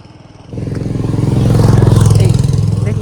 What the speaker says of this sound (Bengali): প্রচুর 2 চাকা 4 চাকা, মানে বাইক আর 4 চাকা গাড়ি